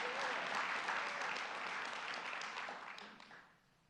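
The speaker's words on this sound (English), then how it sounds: "Commissioners don't usually get applause like that" An audience applauds the New York State Commissioner of the Office of Mental Health at a governor's mental health announcement, with dense, steady clapping that holds loud for about three seconds and then fades out.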